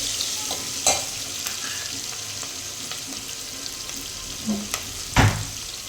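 Onions frying in a pan for a cooker fried-peas biryani, with a steady moderate sizzle and a few scraping stirs of a spoon popping out at uneven moments.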